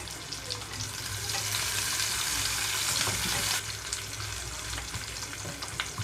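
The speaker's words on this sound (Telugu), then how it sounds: "ఆయిల్ అంతా హీట్ అయిన తర్వాత ఉల్లిపాయ ముక్కలు వేసి వేయించుకుంటున్నాను" Onion pieces fry in heated oil in a pan for mutton curry, giving a loud, dense sizzle that swells and then eases slightly, with light stirring scrapes throughout.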